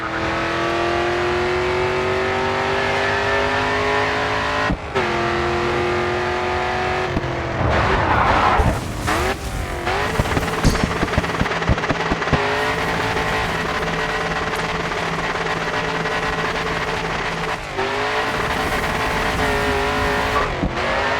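A race car in the Grid 2 racing game drifts at speed, its engine droning loudly and steadily with revs rising and dropping through gear changes, a burst of tire squeal and scrabbling midway, close and continuous.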